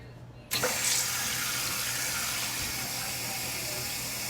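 Water rushes into a toilet tank through a newly replaced fill valve once the supply is turned back on. It starts abruptly after a brief quiet moment, then a steady, loud hiss of refilling continues to the end.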